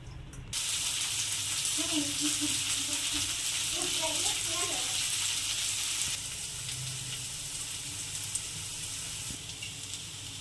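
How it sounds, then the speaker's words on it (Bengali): Bitter gourd fries in hot oil in a wok, a strong continuous sizzle and crackle that settles slightly quieter partway through, with a voice speaking briefly over it early on. "কড়ার মধ্যে তেল দিয়ে দিয়েছি, এবার উচ্ছেগুলো ভেজে নেব।"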